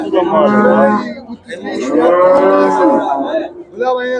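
A cow at the Shahrisabz livestock market gives loud, drawn-out moos, a long low call followed by a second extended bellow and a shorter one, close by amid faint market background.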